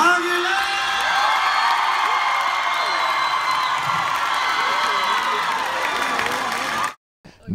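A crowd loudly applauds, cheers and whoops as Leonardo Aguilar, grandson of Antonio Aguilar, is welcomed on stage. The roar is dense and sustained with shouts on top, then cuts off abruptly near the end.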